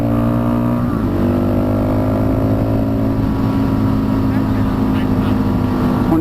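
A motorcycle rides steadily along a back road, its engine drone and wind rush continuous and close throughout, with a brief shift in pitch near the start.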